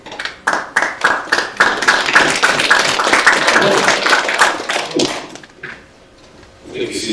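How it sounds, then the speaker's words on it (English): A round of applause breaks out in a meeting hall: dense, close hand clapping builds quickly and holds steady for several seconds, then thins and trails off into a brief quiet stretch before room noise resumes. "That deserves a round of applause."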